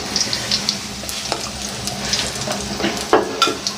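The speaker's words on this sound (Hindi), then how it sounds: "अच्छे तरीके से इसको फ्राई करना आपने, हल्का हल्का ब्राउन करना अच्छे तरीके से" Dahi bhalla lentil dumplings frying in hot oil, a steady close sizzle with scattered pops and light clinks of a utensil, no one speaking.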